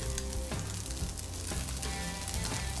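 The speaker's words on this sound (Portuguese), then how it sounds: "agora a gente já vai colocar o bacon" Bacon sizzles steadily as it fries in a hot pan, giving a dense, continuous crackle with a few light stirring scrapes, close and fairly loud with no talking.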